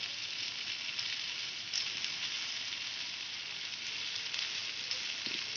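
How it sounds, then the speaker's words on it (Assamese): Fish and potatoes frying in a pan for an Assamese fish curry with turmeric and salt, a steady bright sizzle running throughout with a faint scrape of a spatula near the end. "তাৰ পাছত ভালদৰে হেতাৰে লৰাই দিম, যাতে ভালদৰে গোটেইখিনি গাত হালধিখিনি লাগি যায়"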